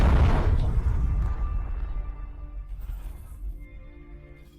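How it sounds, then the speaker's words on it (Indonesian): A single heavy explosion booms at the start, then rumbles and decays over several seconds into a fading, ringing tail. "ledakan."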